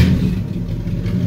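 A 1964 Chevrolet Impala with a 283 V8 runs through open exhaust manifolds, giving a loud, steady, close-up low rumble with a choppy idle pulse and no talk over it.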